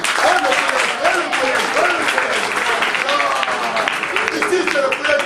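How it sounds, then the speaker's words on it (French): Schoolchildren at a school awareness event break into sustained, fairly loud group applause. The clapping continues evenly for several seconds with a few voices mixed in. "On l'applaudit, s'il vous plaît."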